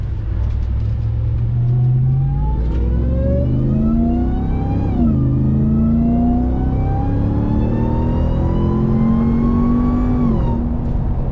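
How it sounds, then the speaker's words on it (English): A Ram TRX truck's supercharged 6.2L Hellcat V8 revs up hard with a rising supercharger whine, shifts briefly, then climbs again, loud and steady throughout. "Whine is definitely a lot louder now. It sounds wicked. Let's go ahead and do another pull right here."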